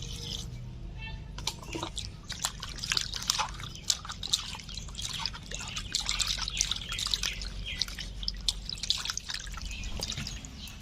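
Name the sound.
washing fish in water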